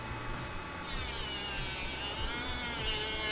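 Power sander running steadily at 80 grit on a spoon pendant, a continuous buzzing whine that shifts pitch slightly as pressure changes, close and alone with no talk.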